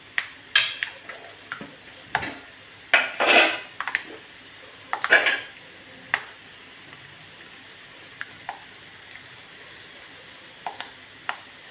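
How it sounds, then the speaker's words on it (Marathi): Peanuts frying in a pan in a home kitchen: scattered clinks and scrapes of a utensil against the pan over a faint sizzle, with quiet gaps between the stirring strokes. "थोडे शेंगदाणे घेतलेले अगोदर आपण फ्राय करून घेऊयात"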